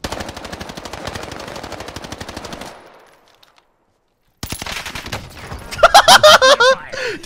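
Rapid automatic M16 rifle fire in a video game rattles loud and close in a sustained burst, stops for a silent gap, then resumes with dense gunfire, sharp reports and clattering action.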